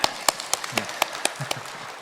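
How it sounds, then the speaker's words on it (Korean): Evenly timed claps from a church congregation at a Sunday morning service in Gunsan, Korea, beating steadily about four times a second over a soft hiss of many hands. "우리 격려의 박수 한번 하겠습니다"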